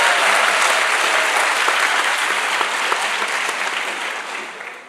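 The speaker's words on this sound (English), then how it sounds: "Can you please join us in giving them another round of applause" Dense, sustained audience applause for two presenters after a talk, a large room of clapping hands at full strength before tapering off at the end.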